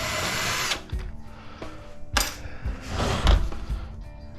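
A power drill backs screws out of a microwave oven casing, with a sustained whirring burst at first, then shorter drill runs and metallic clinks of screws and tool against the metal shell, close and fairly loud.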